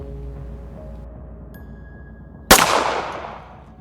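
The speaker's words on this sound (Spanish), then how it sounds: "Un disparo en el rostro, a quemarropa" One sudden loud gunshot cracks out after a quiet, humming stretch, its sharp bang decaying over the following second.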